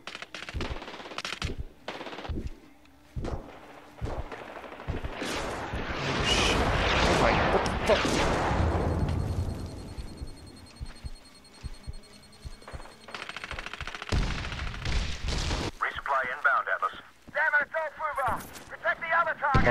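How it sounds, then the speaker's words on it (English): Explosions and rapid gunfire from the Medal of Honor Warfighter beta, a modern military shooter, build into a loud sustained blast midway, with bursts of automatic fire before and after. "I turned the corner and there's just giant explosion"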